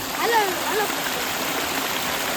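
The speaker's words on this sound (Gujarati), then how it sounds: "ઝરણા જેવું અહીંથી પાણી આવે છે આ બધું પાણી છે ને ભાઈ ખેતરમાંથી નીતરી નીતરીને આવે છે" Water draining off farm fields and running like a small stream, a steady broad rushing wash close by, with brief voices over it.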